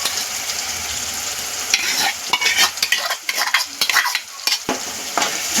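Spices and curd being stirred in a pan for paneer handi, a soft sizzle under busy scraping and clinking of a spoon against the pan, irregular strokes close by with no talking.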